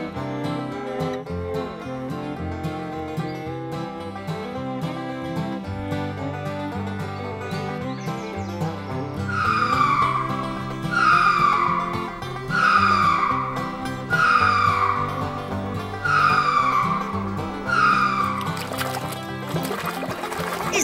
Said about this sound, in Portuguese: Esse inseto aqui gosta de cantar bastante